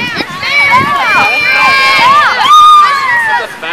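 A spectator in the stands yells loudly and repeatedly at a game, the shouting rising over a lively crowd of overlapping, excited voices nearby.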